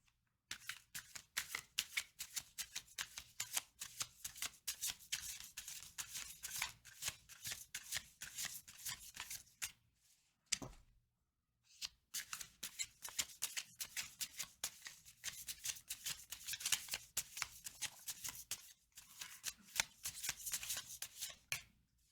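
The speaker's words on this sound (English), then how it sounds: "I'm gonna give it another shuffle." Tarot cards shuffled by hand in dense riffling bursts, a brief pause near the middle before the crisp papery flutter resumes, close and fairly quiet with no talking.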